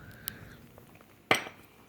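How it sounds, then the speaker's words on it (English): A spoon stirring a baking soda, lime juice and dish soap mixture in a glass gives a faint clink and then a sharp, louder chink against the glass, heard in a quiet room without speech. "You just have to stir it up a little more in order to get it out of the little sides from the bottom of the glass."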